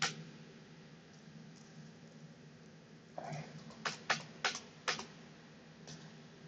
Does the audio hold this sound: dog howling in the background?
no